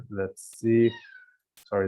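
A pet cat meows once, a clear rising then falling cry between short bursts of someone talking indoors.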